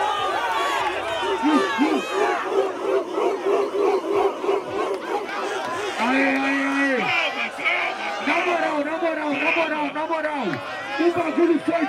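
A rap battle crowd at a final cheers and shouts loudly and continuously, with whoops and rhythmic chanting voices filling the space throughout.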